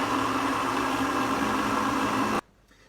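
A food processor blends wild garlic pesto with a loud, steady whirring roar that stops abruptly near the end, with no talking.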